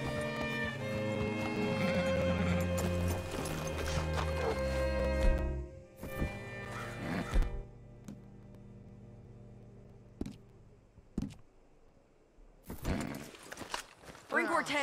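A horse in the video game Red Dead Redemption 2 whinnies loudly over background music and talk, followed by hooves clip-clopping and scattered thuds as the music drops away.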